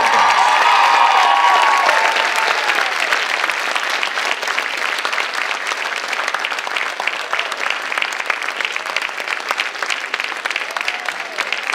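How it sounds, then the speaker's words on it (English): An audience at a high school awards night claps loudly and continuously for a band excellence award, a dense, sustained wash of applause with faint crowd murmur beneath it. "we would like to give a nice round of applause in celebration for excellence in band to Adam Montross."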